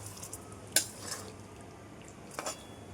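Lotte fish curry coated in spice paste being stirred in a pan, a few scattered metallic clinks of a spoon against the pan over a faint low sizzle, fairly quiet.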